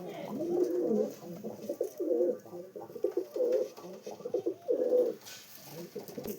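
Urdu and Giribaz pigeons coo steadily in a loft, a close, continuous series of low rolling calls rising and falling in loudness.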